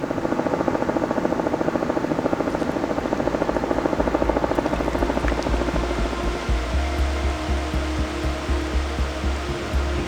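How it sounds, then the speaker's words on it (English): Helicopter flying overhead near an Alaskan glacier, a steady fast rotor chop with loud droning whir that shifts slightly in pitch as it passes, alone without talk. "Helicopter."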